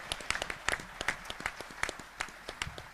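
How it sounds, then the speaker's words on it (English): Scattered, fairly sparse hand claps from a small gathering at a press event announcing a lacrosse team acquisition, individual claps distinct and moderately quiet over a few seconds. "just want to give him a round of applause"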